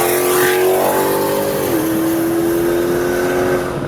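A 1000-horsepower tuned Dodge Demon engine revs loudly and up close, its pitch climbing and then dropping to a steady high drone as it accelerates.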